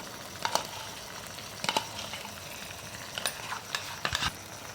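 Onion masala sautéing in a pan with sour yogurt added, a soft steady sizzle broken by several sharp spoon scrapes and stirring knocks, close and moderately quiet with no talking.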